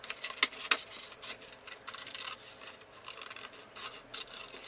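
Scissors trim around a paper cutout for a mini Halloween goodie bag, giving soft close rasping snips in short irregular bursts with brief pauses, quiet and alone without talk.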